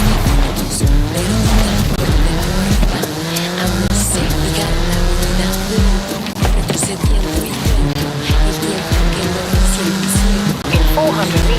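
Forza Horizon racing car driven hard through the countryside, engine roaring and shifting with repeated tire squeals and skids, loud and continuous under occasional talk.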